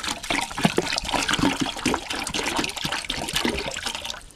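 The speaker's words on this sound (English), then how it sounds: "just a case of turning the tap on, letting the system run" Tap water running steadily through a home brewing carbon filter setup, a continuous close splashing and trickling flow with no voices.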